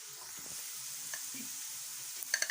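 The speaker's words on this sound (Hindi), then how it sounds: "प्याज को हमने अच्छी तरह ब्राउन करना है।" Onions fry and brown in a pan for mutton curry, a faint steady sizzle with soft stirring scrapes and a few small clinks near the end.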